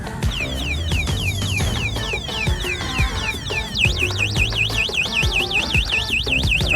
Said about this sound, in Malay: E-bike ni juga ada remote alarm.